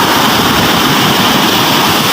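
Big sea waves around a small fishing boat at sea, a dense, continuous roar of surf and rushing water, loud and close with no voices.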